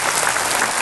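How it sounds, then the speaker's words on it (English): Studio audience applauding, a dense, loud and continuous burst of clapping heard up close and alone for a brief moment. "Everybody give him a little round of applause for asking the question."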